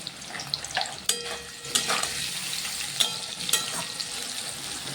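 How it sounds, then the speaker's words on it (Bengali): Potatoes fry in hot oil with nigella seeds, giving a steady close sizzle broken by sharp scraping and clattering stirs in the pan, with no voices. "গরম তেলে কালো জিরে ফোড়ন দিলাম, দিয়ে আলুগুলো ভেজে দিলাম"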